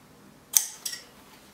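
Two crisp snips of scissors cutting into trouser fabric during pocket construction, a sharp close click followed by a softer second cut in an otherwise quiet room.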